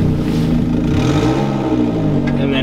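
A Mazda Miata NB engine with a leaky exhaust revs loudly and steadily up close, its pitch climbing and dipping with a rough, raspy drone throughout.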